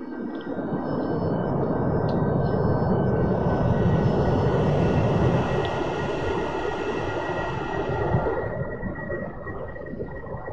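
A fixed-wing aircraft's engine throttles up for takeoff in the DCS World 2.2 Alpha flight simulator, a loud, continuous rumbling roar with a whining tone that swells and then eases slightly near the end.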